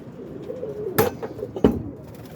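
Roller and homer pigeons coo softly and steadily in a loft, with two sharp knocks or clanks breaking in about halfway through.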